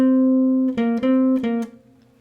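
A jazz guitar plays a short closing phrase: a long sustained note followed by a few quick plucked notes that fade out, close and solo.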